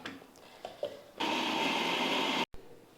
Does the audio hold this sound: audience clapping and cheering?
no